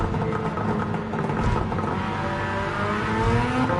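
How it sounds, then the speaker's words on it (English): Gran Turismo 7 race car on the Tokyo circuit braking hard and dropping to second gear, a steady, loud engine drone with shifting harmonic tones running throughout, no voices. "brake hard, and we're going to be going for second gear"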